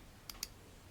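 Two quick, sharp mouse clicks on a computer, spaced a fraction of a second apart, close and clear over a quiet room.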